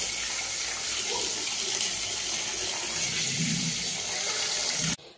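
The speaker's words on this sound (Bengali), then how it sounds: "জামা কাপড় তো ধোয়া হয়ে গেছে" Water splashes and gushes steadily as clothes are washed by hand, a constant close wash of sound that cuts off abruptly at the end.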